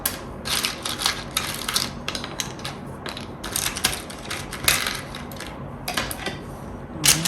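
Tarot cards being shuffled by hand: crisp, rapid riffling and flicking bursts in quick repeated runs, close and fairly loud, with short gaps between each pass and no voices.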